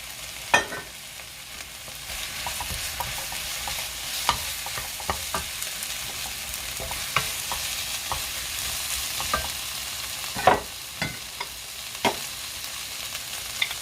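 Bok choy stir-frying in a pan for vegetable noodles, a steady close sizzle with the scrape and knock of a utensil tossing the greens at irregular intervals, and no speech.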